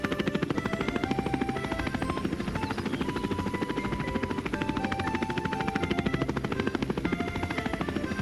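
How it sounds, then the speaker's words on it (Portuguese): Cartoon drone lifting off, its rotors a steady loud rapid whirring buzz like a small helicopter, constant and close throughout with no talking. "Olha! O drone está subindo!"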